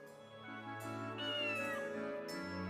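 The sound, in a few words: cat meowing, Amaretta's familiar, from video game GrimGrimoire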